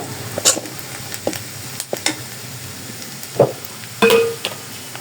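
Spice paste with ginger-garlic frying in a pan for a broiler chicken curry, a soft sizzle broken by several distinct scrapes and clinks of a spoon stirring against the pan, close and clear with no talking.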